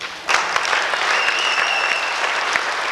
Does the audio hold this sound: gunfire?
no